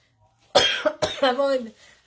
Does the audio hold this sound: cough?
yes